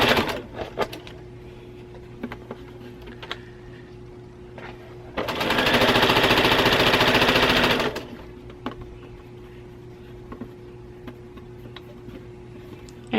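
Domestic sewing machine stitching scrappy nine patch quilt squares, a loud steady run of about three seconds mid-clip, framed by quieter intermittent ticking and handling sounds with a constant low hum.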